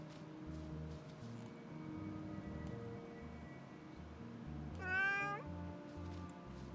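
A cartoonish cat meows once, clear and rising, in the video game Little Witch in the Woods, over a soft looping game melody with quiet background ambience.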